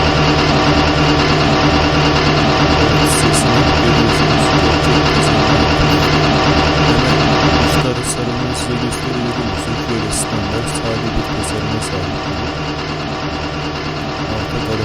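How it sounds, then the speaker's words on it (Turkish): A JCB excavator engine in Farming Simulator 19 runs with a steady, loud low drone and faint mechanical clicks, settling slightly quieter partway through. "Önce motoru çalıştıralım."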